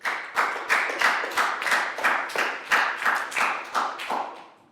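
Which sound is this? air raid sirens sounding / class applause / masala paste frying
class applause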